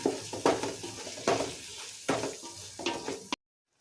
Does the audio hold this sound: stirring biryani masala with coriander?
yes